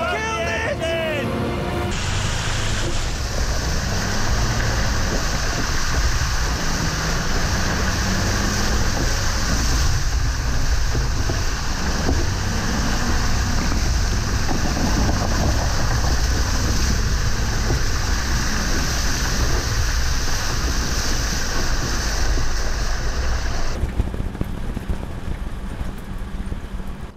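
Off-road vehicle splashing and driving through a slippery river, a loud, continuous rush of water, engine and wind noise over nearly half a minute, with voices now and then.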